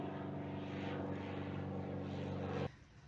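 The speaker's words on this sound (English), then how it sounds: "here's another plane coming in" A propeller airplane passes overhead while coming in to land, a loud steady droning hum that cuts off abruptly near the end, leaving quiet outdoor background.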